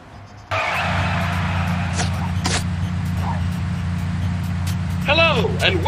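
In the video game Sam & Max: Beyond Time and Space, a car engine starts abruptly into a loud, steady droning rumble that holds throughout, with brief squeal-like tones near the end.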